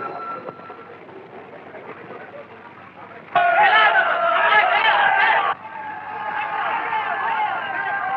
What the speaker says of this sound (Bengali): ট্রেন থামে কেন?